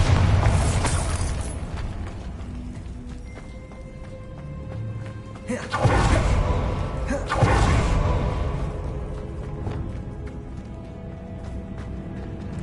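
Spell-cast explosions in the Hogwarts Legacy video game: two heavy booming blasts in quick succession with whooshing bursts, over continuous game music and ambient effects.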